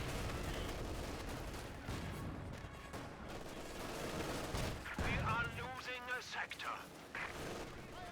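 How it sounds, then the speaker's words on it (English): An MG 42 machine gun in Company of Heroes 2 fires in dense, rattling bursts amid distant battle explosions, steady and mid-distance beneath a commentator's running talk. "MG3042 providing good suppression as always."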